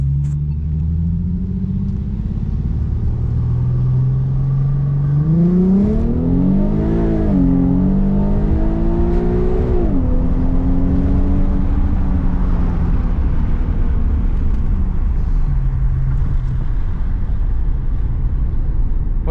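Volkswagen MK4 GTI engine revving, its exhaust tone a deep idle rumble that rises through two or three smooth, loud revs before settling back to idle, steady and close, with no talking.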